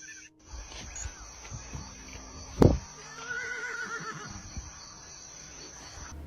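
A horse halting in its tracks and refusing to go on gives a single drawn-out whinny midway, moderately close, just after a sharp thump, over a low, steady outdoor background.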